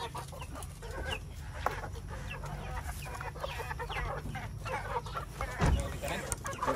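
Farm chickens clucking and squawking nearby as they are let out of a breeding area, a busy chorus of overlapping calls with a voice speaking over it.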